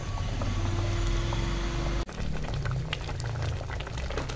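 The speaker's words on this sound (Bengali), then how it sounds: "টকবক করে খিচুড়ি ফুটছে।" Mung dal khichuri simmers in a pot over a wood or clay stove, a steady dense bubbling that runs throughout with a brief dip midway and low rumbling underneath.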